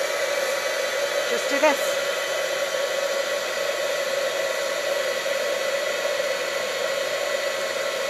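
A heat embossing tool blows a steady, loud whooshing hiss of hot air as it melts embossing powder, the drone holding even and constant from start to finish with a brief spoken remark near the beginning.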